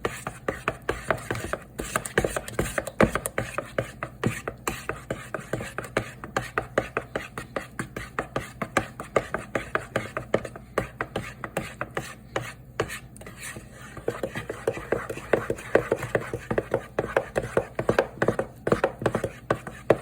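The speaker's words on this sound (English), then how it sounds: "you always want to get a nice big bowl like this to mix up your pudding" Banana pudding is mixed by hand in a big bowl, with a fast, steady scraping and slapping rhythm that keeps going close up and without a break.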